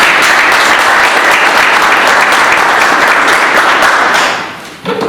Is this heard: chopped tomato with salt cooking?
no